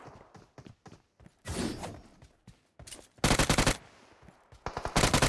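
Bursts of automatic gunfire from a PUBG Mobile match, several rapid volleys with gaps between them, the loudest sustained bursts near the end, alongside scattered single shots and thuds.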